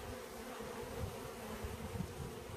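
Honey bees buzzing at the entrance of a long hive during a package install, a dense continuous hum from many bees close up, no voices.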